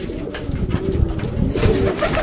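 Racing pigeons resting in a loft in Kalisz, Poland, coo softly and repeatedly after a flight, a close, murmuring flock sound with rustling and no speech.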